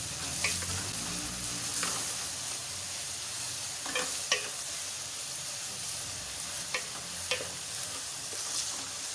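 Onions frying in a pan with crushed garlic-ginger paste for Bombay chicken biryani, a steady sizzle with occasional stirring scrapes and clinks, close and continuous with no talking.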